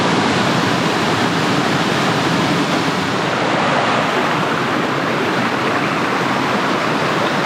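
Rushing water from a creek junction in Sydney's Northern Beaches after heavy rain, a loud, continuous, broadband roar close by that holds steady throughout with no speech.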